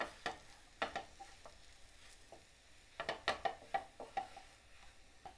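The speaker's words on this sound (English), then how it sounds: "at this point you can turn the heat right up because we're looking to get some colour on the potatoes" Spiced potatoes frying over high heat in a pan and being stirred, with a steady sizzle under repeated scraping strokes of a utensil in clustered bursts, close and clear, no talking.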